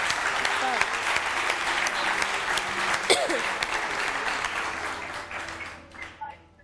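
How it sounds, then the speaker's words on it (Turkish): Studio audience at a live Turkish daytime talk show bursts into loud sustained applause, dense clapping with a few voices and a speaker talking over it before it fades. "Ben seni ayakta alkışlıyorum."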